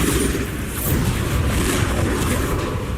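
Hogwarts Legacy's Bombarda spell going off, a dense sustained rumbling blast that fills the whole moment with heavy low roar and no quiet gaps.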